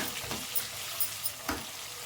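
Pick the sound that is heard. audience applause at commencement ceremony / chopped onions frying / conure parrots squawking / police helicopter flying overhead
chopped onions frying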